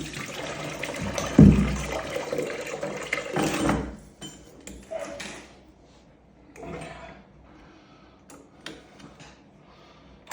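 Water drains and gurgles out of a bathroom radiator being removed, a loud rushing splash at first that dies away into quieter trickles and occasional clicks.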